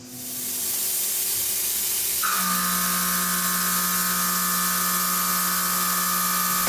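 A Tormach 770 mill roughs metal with a Lakeshore Carbide TAS rougher at low RPM and 0.75-inch depth of cut, giving a steady, loud, hissing grind that picks up a sharp whining tone partway through and holds it.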